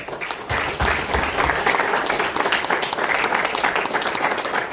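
Loud, sustained applause from a large crowd, steady dense clapping throughout with no pauses.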